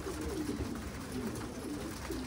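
Pigeons coo softly in a low, rolling rhythm at a loft on a warm day, several overlapping calls heard faintly against a steady background hiss, with no voices.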